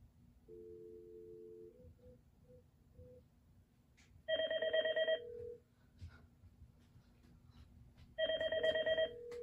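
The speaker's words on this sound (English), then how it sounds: "And the ringtones this phone has." Ringtone of a Cisco CP-9971 touch-screen IP phone: a short soft tone pattern, then two loud, bright bursts of electronic ringing separated by a pause, heard alone without talk.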